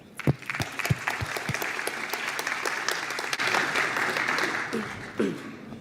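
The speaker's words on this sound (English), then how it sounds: "Round of applause." Audience applause fills a conference hall after a talk introduction on OpenTelemetry and Prometheus, steady dense clapping for several seconds with a few sharper claps early on, then tapering at the end.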